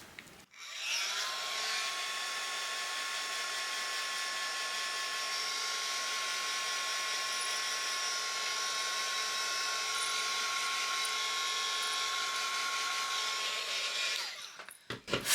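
A dryer blows a steady, loud whirring hiss with a thin whine for about fourteen seconds over small craft pieces dabbed with gesso, then clicks off.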